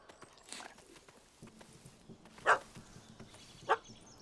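A dog in The Witcher video game gives two sharp barks over quiet game ambience, with softer whimpering and shuffling sounds between them.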